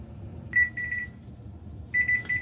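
A kitchen timer alarm beeps in two bursts of rapid, bright electronic tones, close and clear, while a seafood boil with lobster tails cooks in a covered pot. No one speaks.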